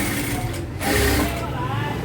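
Domestic sewing machine running a topstitch along the fold of a cloth dress top, a steady mechanical whir that pauses briefly midway and then resumes, close by and fairly loud beneath a woman's speech.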